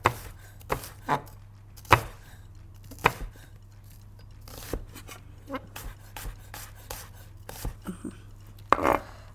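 A knife chops parsley on a cutting board while bulgur kebab is being prepared, making a series of irregular sharp taps against a low steady background hum.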